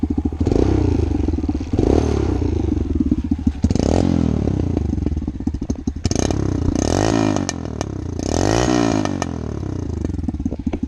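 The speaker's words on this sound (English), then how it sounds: "Let's start this up for you. It's in neutral." A small 125cc motorcycle engine, a Boom Lil Duc Grom-style bike, idles in neutral and then revs up several times in rising bursts, loud and close, with rattling clatter and no voices.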